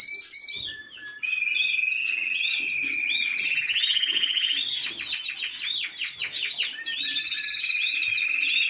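Small birds in an aviary chirp and sing in bright, continuous trills and rapid repeated notes, close and clear, several calls overlapping, with no talking.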